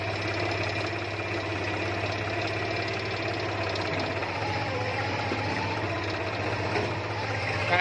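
A tractor engine runs steadily with a low, knocking idle-like throb and faint vibration while it turns and straightens on a farm. It holds at an even level throughout with no clear talk over it.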